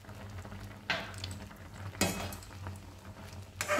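Salt being stirred into kuler achar (Bengali jujube pickle) in a pan, giving soft scraping and rustling strokes, with a few louder stirs at intervals over a low background hum.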